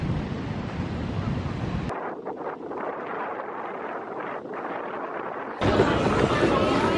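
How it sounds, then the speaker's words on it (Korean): Sea waves wash onto the beach at Da Nang in a steady broadband surf roar, mixed with gusty wind buffeting the microphone, fairly loud and continuous. "이렇게 바로 앞에 바닷가가 있어요."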